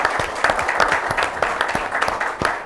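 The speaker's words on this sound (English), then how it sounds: "please join me in giving our panelists a round of applause for their time today" An audience at a security forum applauds its panelists with close, uneven hand claps, individual sharp claps audible within the spirited round.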